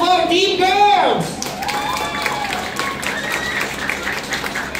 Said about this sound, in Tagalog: Clap your hands for Team Girls!